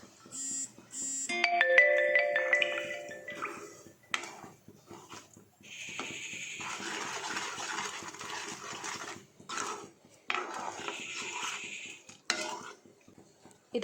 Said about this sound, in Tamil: இதையும் நல்லா கலந்து விட்டுருங்க